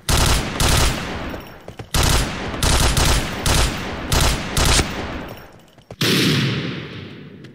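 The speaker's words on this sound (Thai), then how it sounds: "มันเป็นปืนกลอันแรกผมคิดว่าน่าจะเป็นปืนกลเบาครับ ครับ ส่วนปืน2น่าจะเป็นสไน" Video game gunfire from two weapons: a light machine gun firing loud, rapid bursts in several repeated volleys, followed by a single heavy sniper rifle shot with a booming tail at the end.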